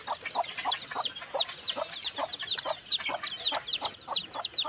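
Desi chickens in a home backyard farm, with chicks about a week old: a close flurry of soft clucks overlaid with rapid high peeping from the chicks, steady and moderately loud with no talk.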